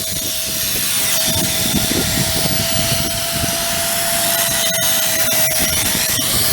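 A worn steel chisel being sharpened on a grinder at a broadcast tower work site, giving a steady continuous grinding whine with a fixed tone throughout, loud and close, with no talking.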